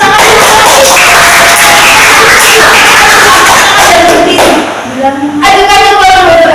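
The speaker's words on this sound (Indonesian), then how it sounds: "Oke, boleh tepuk tangan." Students applauding in a classroom, a dense burst of clapping with loud voices mixed in, close and continuous, then a short dip before the noise returns.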